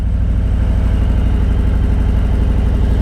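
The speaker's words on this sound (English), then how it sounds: "No brake, just the throttle at idle." A motorcycle engine idles steadily with the throttle at idle and no brake, giving a loud, even low rumble that holds without change from start to finish.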